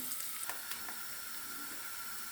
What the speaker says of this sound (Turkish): öncelikle soğanlarımı kavuracağım